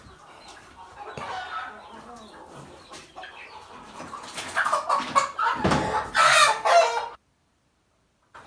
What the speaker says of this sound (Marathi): तुम्हाला दाखवत आता थोडा कोंबडी आणतो